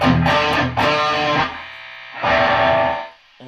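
Distorted electric guitar chords ring through the crunch channel of a Peavey 6505 Piranha amp, played loud and close in two sustained phrases separated by a brief pause.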